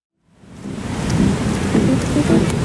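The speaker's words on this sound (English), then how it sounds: "It's like 70 mile an hour rain." Heavy rain swells in from silence into a loud, dense downpour with a deep rumbling roar of thunder underneath.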